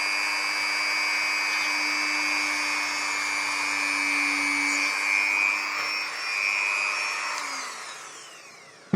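A small high-pitched drill whines steadily for several seconds, its tone dipping briefly as it bites into resin, then winding down and stopping.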